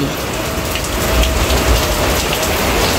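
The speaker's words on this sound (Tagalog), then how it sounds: "Lakas na naman ang ulan." Heavy rain pours down on a provincial home, a dense, steady roar of drops on surfaces with no letup throughout, close and loud.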